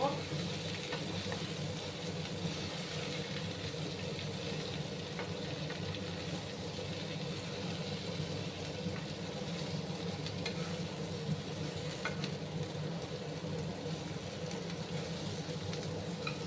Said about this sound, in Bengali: ভালো করে আমি এটাকে মশলাটাকে মিক্স করে নেব।